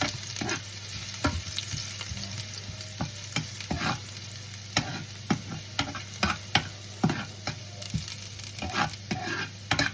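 Ginger sizzles steadily in a hot pan while a utensil stirs it in irregular scraping strokes, close and prominent throughout, with no talking.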